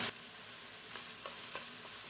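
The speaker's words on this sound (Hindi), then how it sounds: "अच्छी तरह से फ्राई करेंगे।" Spices such as chili flakes, turmeric, red chili powder and paprika sizzle in a pan, a steady hiss broken by a few soft stirring scrapes and taps.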